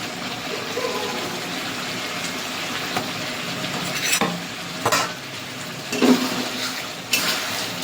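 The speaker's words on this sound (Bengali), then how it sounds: "কষানো প্রায় হয়ে গেছে, ভেজে রাখা পটলগুলো এবার দিয়ে দেবো।" Masala for a katla fish curry sizzles steadily in a pan as fried pointed gourd is stirred in, with a continuous frying hiss broken by a few louder scrapes and clatters near the end.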